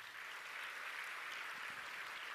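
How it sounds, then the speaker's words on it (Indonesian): An audience at a formal Indonesian government speech by the newly appointed Minister of Religion claps steadily, a dense, even wash of applause lasting a couple of seconds. "Tepuk tangan untuk mereka ya."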